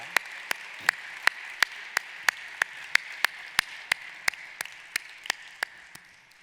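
Slow, evenly spaced claps at a university graduation ceremony, about three per second, sharp and distinct in a quiet hall, keeping a steady rhythm throughout rather than forming a dense wash of applause.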